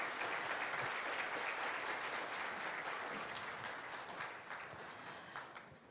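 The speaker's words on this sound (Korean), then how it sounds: "고생해 주신 강연자 그리고 토론자분들께 여러분 다시 한번 힘찬 박수 보내주시기 바라겠습니다." Audience at an industrial security conference applauds the speakers and panelists, with a thick, even wash of clapping from a large room that slowly fades toward the end.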